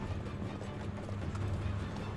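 Horse hooves clip-clop quietly in the Uncharted 3 video game, a soft, quick run of footfalls heard at a distance.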